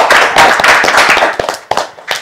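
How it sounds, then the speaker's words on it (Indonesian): A small studio audience at a political talk show claps loudly for a couple of seconds, the dense burst of hand claps thinning into a few scattered final claps. "tepuk tangan dulu lah ya"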